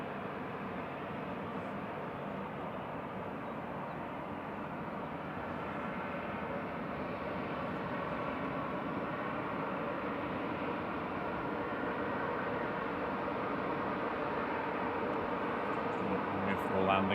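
A Ryanair Boeing 737-800 pushes back at Manchester Airport, giving a steady broad engine rumble that holds for the whole stretch and swells slightly toward the end.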